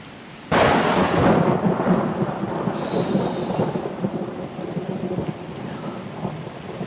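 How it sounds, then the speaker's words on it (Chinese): A loud crack of thunder breaks in and rolls into a long, heavy rumble during a thunderstorm with rain, filling the whole stretch and slowly easing off without fading away. "这么大雷声不怕吗？"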